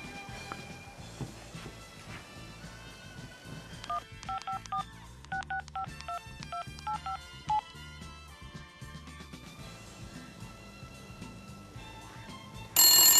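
Telephone keypad tones beep in a quick run of dialing under a steady music bed, followed by a bright ring burst at the end.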